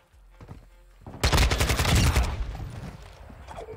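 Automatic rifle fire from a KASTOV 74u in Call of Duty Modern Warfare 2, one loud close burst of rapid shots after a quieter lead-in, then a fading tail.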